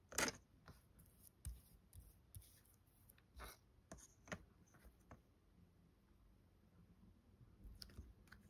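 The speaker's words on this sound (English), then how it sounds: "I'm just going to trim it with scissors." Scissors trim glossy paper for a miniature apartment model in a series of quiet, close snips and clicks spaced irregularly, fading to fainter crinkles toward the end.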